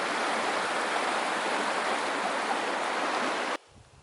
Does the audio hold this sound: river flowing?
yes